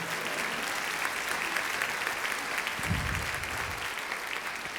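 A church congregation applauds during a sermon, a dense, steady wash of many hands clapping at moderate distance.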